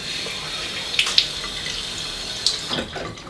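Water runs from a tap as someone wets their face before shaving, a soft steady trickle broken by a few brief splashes, with no talking.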